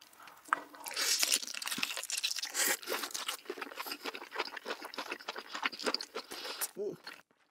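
Giant lobster body meat with the innards attached is eaten in a close-miked seafood mukbang, giving wet, crunchy bites and chewing in a dense run of sounds, with speech also in the clip.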